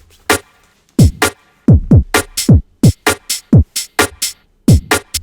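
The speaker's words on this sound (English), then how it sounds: "we're going to start with the drums. They sound like this." A UK garage drum loop from a sample pack plays dry and punchy, with deep kicks, crisp snares and hats in a shuffling, syncopated two-step groove, alone and up front.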